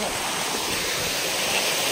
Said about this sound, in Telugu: ఈ వాటర్ ఫాల్స్ కి అయితే వచ్చేసాము